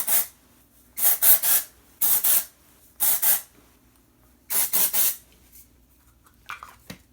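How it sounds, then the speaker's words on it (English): Dove dry shampoo sprayed at the hair roots in five or six short hissing bursts, some in quick pairs or triples, close and crisp with quiet gaps between them. "I'm just going to spray some dry shampoo"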